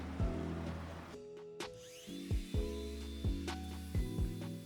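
An angle grinder fitted with a sanding disc grinds paint off limestone masonry in several short, loud bursts, its whine dropping in pitch as it winds down between passes.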